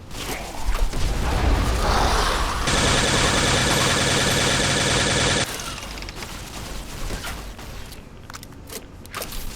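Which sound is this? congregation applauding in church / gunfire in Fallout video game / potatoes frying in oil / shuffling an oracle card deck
gunfire in Fallout video game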